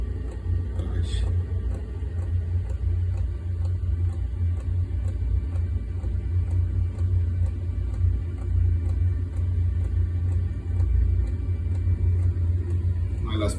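A Chinese diesel engine idles steadily with a deep, even rumble and a fine rapid ticking, close and continuous throughout.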